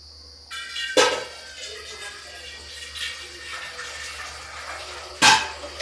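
Ice water from a bowl of frozen ice poured into a bowl beside boiling sweet corn, a steady watery rush with two sharp clinks of ice or vessel, one near the start and one near the end.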